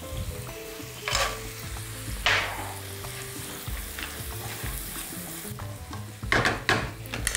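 Almonds sizzle steadily in a hot frying pan while being stirred, a constant close crackle broken by a few louder scraping swishes of the spoon, with no voices over it.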